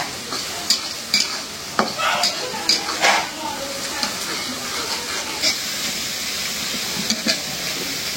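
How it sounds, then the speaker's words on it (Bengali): Garlic and onion fry hard in hot oil for a dal tempering, a steady sizzle broken by sharp scraping clicks of a spoon stirring the pan, with faint talk nearby. "ডাল বাগারে এই রসুন পেঁয়াজটা একটু কড়া করে ভাজতে হয়।"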